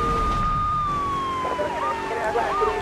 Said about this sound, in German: wie kann ich diese verfickte Sirene ausmachen?